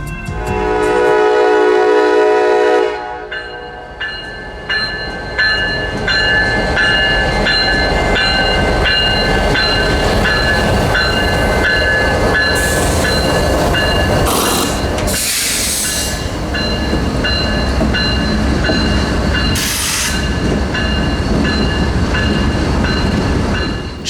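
A freight train rolls past at close range heading into Moncrief Yard, starting with a loud horn blast that gives way to a steady rumble and clatter of railcars, with squealing metallic screeches near the end.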